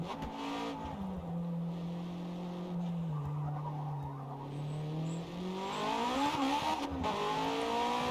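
A 650-horsepower time attack car accelerating on the Fujimi Kaido track, engine droning steadily then climbing in pitch as it revs up, loud and continuous with a hint of tire squeal, no talk.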